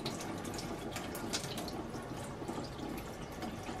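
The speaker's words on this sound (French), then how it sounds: "quand vous amorcez votre filtre, ça fait comme des petites gouttes qui sortent par l'extérieur" Water trickles and drips steadily from a Berkey water filter being primed, a close, continuous fine splashing with no talk.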